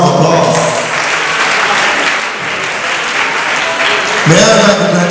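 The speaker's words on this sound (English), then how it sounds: "Let's give them all another round of applause." An audience at a graduation ceremony applauds loudly and continuously for several seconds, a dense wash of clapping close by with no speech over it.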